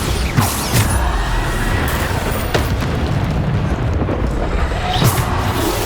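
Bombarda blasting spells detonating in Hogwarts Legacy combat, a steady wash of rumbling booms and crackling impacts with sharp bursts near the start, middle and end, loud and dense throughout.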